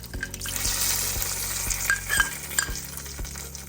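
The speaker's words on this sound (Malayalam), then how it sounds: "2-3 ഉണക്കമുളകും കറിവേപ്പിലയും കൂടെ താളിച്ചൊഴിക്കാം" Hot oil sizzles steadily up close as dried chilies and curry leaves are tempered for a Kerala prawn curry, with a spoon stirring and tapping against the pan now and then.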